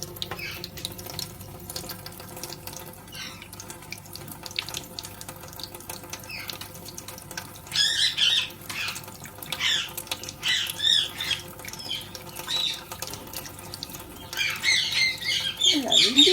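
An Indian ringneck parrot bathing in a kitchen sink gives repeated sharp squawks in bursts over the steady splash of running tap water, fairly close, with a faint voice in the background.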